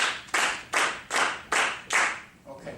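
A group claps a rhythm together in a clapping exercise: six loud, evenly spaced unison claps, close and crisp, followed by a softer, scattered trailing clap.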